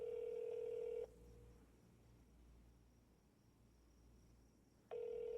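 A telephone keypad tone sounds in a Roblox video game, with one steady tone, a pause of quiet hiss, then the tone again, clear and alone.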